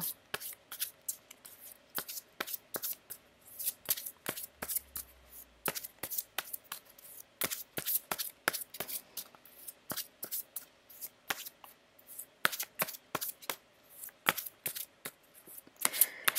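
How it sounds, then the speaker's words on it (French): Tarot cards are shuffled and drawn by hand in a quiet room, a run of soft, close, rapid flicks and slaps in irregular bursts with no talking. "Alors, je vais tirer les 3 cartes."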